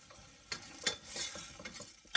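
Crushed cashews being stirred into tomato masala in a pressure cooker for vegetable biryani: a few scraping, sizzling stirs at close range, with no talk.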